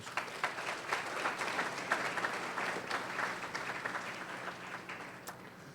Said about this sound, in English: So let's give those guys a round of applause.